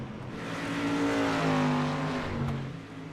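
Race cars lap the Las Vegas Bullring oval, their engines loud, droning and rising as they roar past together, then fading slightly.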